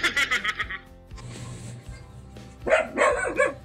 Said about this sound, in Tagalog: Andyan na naman ang asong ito.